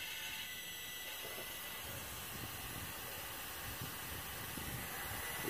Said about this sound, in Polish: I tu gdzieś jest słychać nieszczelność.